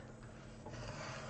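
Designer series paper scored on a scoring board for a hand cream gift box: a steady, close scraping rasp runs throughout the short moment, growing slightly louder partway through, with no talking.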